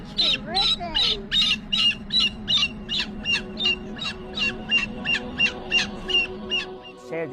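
A parrot squawking in a steady run of about twenty sharp, evenly spaced harsh calls, close and fairly loud, with a low background murmur underneath.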